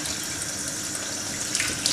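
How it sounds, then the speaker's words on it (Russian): Cold tap water runs steadily into a kitchen sink while Danube herring is rinsed under it, a continuous close splashing hiss with small bursts of spatter and no talking. "Теперь эту селедку необходимо промыть в прозрачной воде,"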